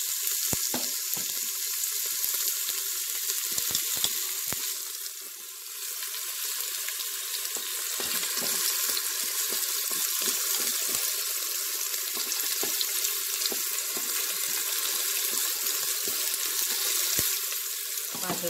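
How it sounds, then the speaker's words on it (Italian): Onion frying in hot oil in a Cookeo cooker, a continuous bright sizzle with crackling pops that dips briefly midway, steady and close throughout. "Adesso, quando sarà caldo, vado ad aggiungere la cipolla."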